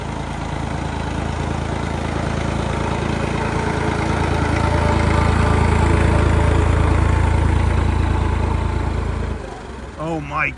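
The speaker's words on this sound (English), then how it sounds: "Big tractor." A big tractor runs on a farm in Portugal, its engine giving a loud, steady low rumble that swells slightly and then drops away near the end as a voice comes in.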